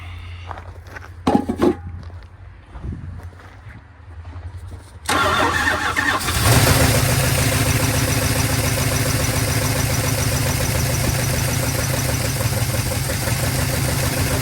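A 1970 Dodge D100's 383 big block V8 cranks briefly, then catches and roars into a loud, steady idle after a few quiet shuffling sounds and clanks.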